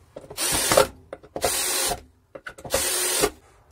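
A cordless power screwdriver drives self-tapping screws into wood, three loud whirring bursts of about half a second each separated by brief pauses and small clicks, close up with no speech.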